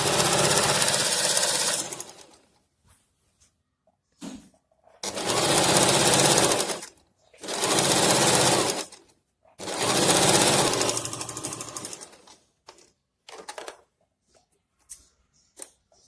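A sewing machine runs a pant seam with a half-inch margin in several loud bursts of stitching, each lasting a second or two, broken by short pauses and a few light clicks.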